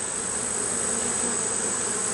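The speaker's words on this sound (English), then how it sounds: "There are some bees hatching out." Honey bees hum inside an open hive during a September inspection, a dense, steady, close buzz of many insects that stays even and unbroken throughout.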